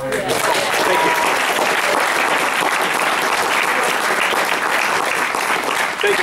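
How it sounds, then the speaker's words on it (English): An audience at a Jackson County commissioner candidate forum applauds Mr. Bumrider with loud, sustained, dense clapping, and voices talk underneath it. "A big round of applause for Mr. Bumrider"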